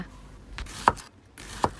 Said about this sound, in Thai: ใบสะระแหน่นะคะ หั่นหยาบๆค่ะ